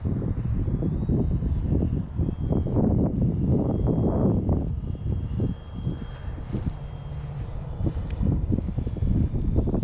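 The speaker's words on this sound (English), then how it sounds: "Oh, that wind" Strong wind buffets a microphone outdoors during a first flight, a constant low roaring rumble with gusty surges.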